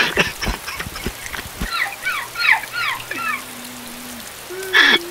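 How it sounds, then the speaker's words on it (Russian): Seagull calls in the survival game DayZ, a series of close, loud descending cries in quick succession, then a lone call near the end over a faint ambient background. "Чайка."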